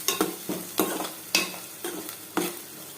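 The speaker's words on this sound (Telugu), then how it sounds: "వేగిన తర్వాత కొంచెం పసుపు వేస్తున్నాను. వేసి ఒకసారి కలిపేద్దాం." Turmeric being stirred into jackfruit seeds frying in a pan, with several distinct scraping strokes against a steady sizzle, close and fairly loud.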